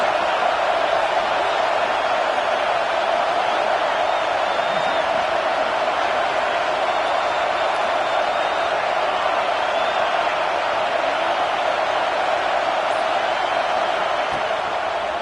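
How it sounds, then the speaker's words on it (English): A home crowd at an Ohio State college football game roars on third down as the defense tries to get off the field: a loud, dense, steady wash of crowd noise that holds without a break from start to finish. "Here comes this home crowd as the defense tries to get off the field on 3rd down"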